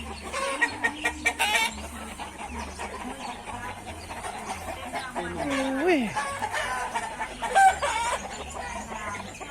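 Fighting roosters at a Thai fighting-cock farm crow and cluck close by, several calls rising over a busy background, while someone talks throughout.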